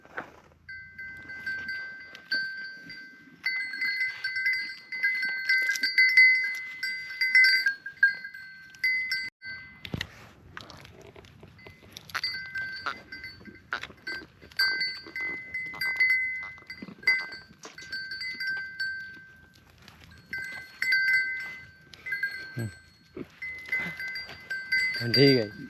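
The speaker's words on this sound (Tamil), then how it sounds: "ஆடுகள் தான் சாப்பிடுது." Goats in a Rajasthan desert herders' camp feed on bread, with a repeated high metallic bell ringing in bursts, rustling movement and occasional soft bleats, while people talk nearby at moderate distance.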